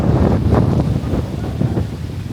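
Strong stormy wind gusts on a tropical island beach in Malaysia, buffeting the microphone with loud, rumbling low roars that surge and ease in uneven pulses, with faint surf beneath.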